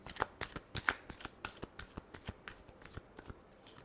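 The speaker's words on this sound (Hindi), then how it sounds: "Last shuffle." Tarot cards are shuffled up close in quick, quiet riffling bursts, a dozen or so crisp flutters in a loose, uneven rhythm.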